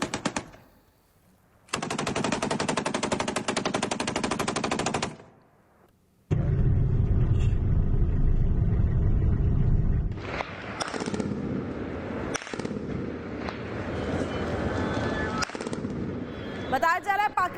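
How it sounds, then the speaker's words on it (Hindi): Back-to-back automatic gunfire during clashes between Afghan and Pakistani forces: rapid sustained bursts cut by pauses, then further scattered shots at a distance, with voices heard at times. "बैक टू बैक फायरिंग की आवाज भी आपको सुनाई दे रही होगी"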